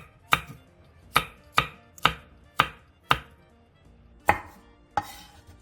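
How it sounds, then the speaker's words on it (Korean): A knife chops green onion and cheongyang green and red chili peppers diagonally on a cutting board, making eight crisp, distinct strikes at an uneven, unhurried pace, close and clear with no talking. "대파 3분의 1개와 청양고추 2개, 청양홍고추 1개는 길게 어슷썰게 해주세요."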